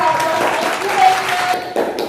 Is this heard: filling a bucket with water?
no